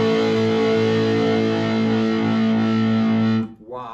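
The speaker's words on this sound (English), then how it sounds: "So let's pop the amp onto overdrive." Epiphone SG Prophecy electric guitar played through a Roland JC40 Jazz Chorus amp on overdrive, a loud, distorted sustained chord ringing steadily for over three seconds before cutting off abruptly.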